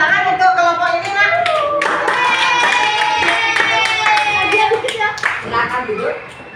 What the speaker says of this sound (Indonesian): tepuk tangan untuk kelompok ini nak